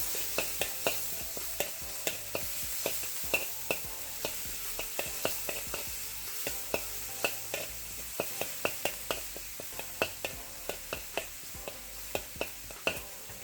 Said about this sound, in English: Then we're gonna add our garlic. Lots of garlic. And keep working that in there.